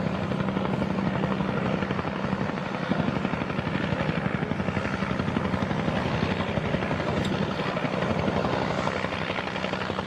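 A helicopter comes in to land at Huntington Beach, its rotor chop a steady, moderately loud thrum that holds evenly throughout with no voices.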